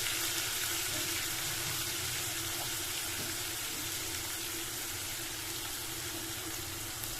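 Sliced onions sizzle in hot oil with whole garam masala spices for a bhetki fish curry, a loud steady hiss that runs unbroken throughout.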